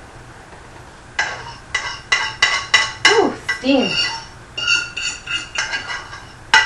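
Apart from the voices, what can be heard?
fork scraping against pan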